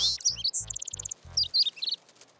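A baby bird in a cartoon lets out rapid high chirps and tweets, with a quick run of even peeps, over soft low thumping beats, then fades to quiet.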